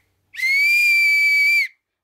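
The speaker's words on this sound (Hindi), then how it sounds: "और ये है सीटी" A small toy whistle gives one sustained shrill tone lasting over a second, clean and close, with silence before and after.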